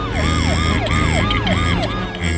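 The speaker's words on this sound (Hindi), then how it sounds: "अंततः एम्बुलेंस" Cartoon ambulance siren wailing in a steady rising and falling cycle, loud and close, with a few sharp bursts of sound effects layered over it.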